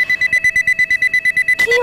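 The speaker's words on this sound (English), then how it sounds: "My other line is ringing." A telephone rings in rapid repeated electronic trills, about a dozen bursts in quick succession, close and clear, ending in a short clatter.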